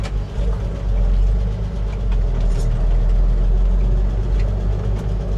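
A 1951 Ford F4 truck engine running at a steady low rumble, loud and close, with a deep even throb throughout and no talk.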